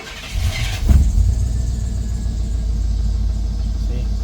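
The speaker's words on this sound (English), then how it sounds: "so let's try starting the truck back up again" A Chevrolet Silverado truck engine cranks briefly and catches, then settles into a steady, loud, close idle rumble that continues to the end.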